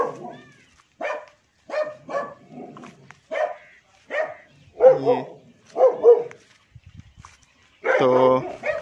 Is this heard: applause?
no